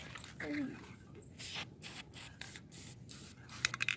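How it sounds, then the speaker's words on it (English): A spray can hisses out a few short bursts of paint while a hand plane is being restored. The bursts are close and broken up by pauses, with faint handling noises in between. "Try not to spray the camera"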